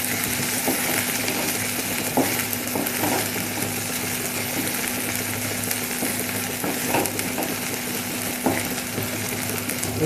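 Chopped onion sizzles in a hot pan while a spoon stirs it, a steady hiss of frying with occasional scraping clinks, close up and continuous, no voices.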